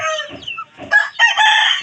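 Chickens clucking and a rooster crowing loudly nearby, with several short calls leading into a longer crow.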